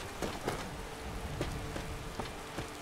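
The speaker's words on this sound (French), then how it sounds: "Et il commence à repleuvoir." Rain falling in Skyrim, a steady close hiss of rainfall with scattered sharper drop taps spread evenly throughout, heard alone without voices.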